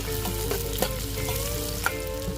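Onions and tomatoes fry in ghee with curry leaves, a loud steady sizzle with a couple of sharp stirring clanks, no voices.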